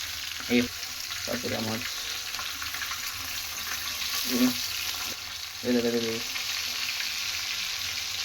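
Fish frying in a pan gives a steady, fairly loud sizzle that runs throughout, with a few short bursts of voices breaking in over it.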